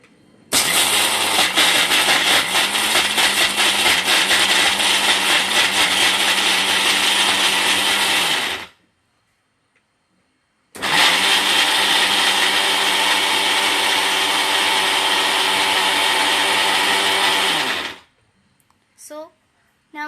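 Mixer grinder whirring loudly as it grinds three ingredients for a school nutrition-week recipe, running in two long bursts of about eight and seven seconds separated by a short pause, with brief clatters at the end.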